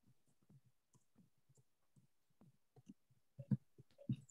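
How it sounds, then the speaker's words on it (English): Fast typing on a keyboard produces soft, irregular clicks and taps, quiet at first and then denser and louder near the end, with no talk. "we are like fervently typing to answer your question"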